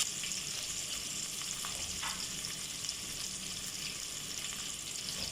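Chopped onions and green chilies frying in oil for methi pulao, giving a steady, even sizzle throughout with a couple of faint clinks, no talking.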